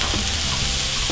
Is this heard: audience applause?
no